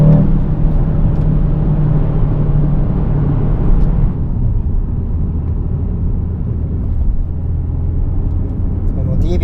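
An Aston Martin DBX707 SUV accelerating on a Tokyo street, its engine giving a loud, close rumble and whir that builds and then eases into a steadier roar under road noise.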